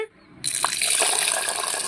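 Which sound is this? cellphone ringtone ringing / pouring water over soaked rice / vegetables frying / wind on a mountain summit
pouring water over soaked rice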